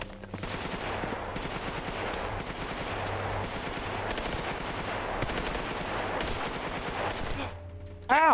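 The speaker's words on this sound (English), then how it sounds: "Are you shooting at me?" Sustained automatic gunfire in the video game GAMMA, rapid loud bursts running nearly continuously, then cutting off near the end as a short tonal sound takes over.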